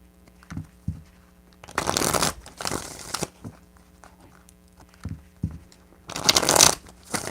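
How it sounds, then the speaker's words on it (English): A deck of tarot cards is shuffled in three quick riffling bursts, each a loud, crisp flutter of card edges, separated by softer taps and handling sounds as the deck is squared. "Three shuffles."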